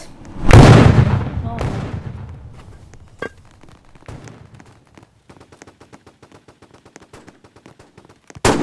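Gunfire and grenade blasts in the video game Forteresse: a loud explosion, then scattered shots and a long run of rapid, evenly spaced gunshots, closing with another sharp burst.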